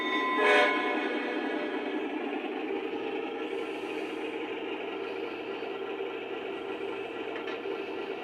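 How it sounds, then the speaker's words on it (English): A Lionel L&N U28C model diesel locomotive sounds its horn signal, a steady tonal blast held for several seconds over a brief bell-like ding at the start, moderately loud and close with no talking. "bell horn signal indicating that the sequence control is now enabled"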